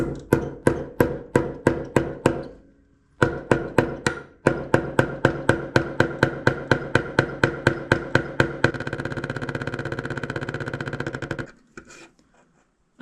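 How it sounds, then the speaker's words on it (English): A pin is hammered into place in a steady run of sharp metallic blows, close and loud, with short pauses and then a fast rattling burst near the end. "I'm just gonna hammer that thing in there."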